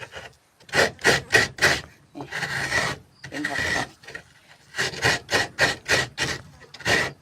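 Coconut meat scraped on a traditional grater, a series of loud close rasping strokes in quick rhythmic bursts, pausing briefly between runs of strokes.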